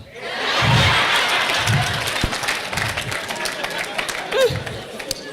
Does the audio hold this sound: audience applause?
yes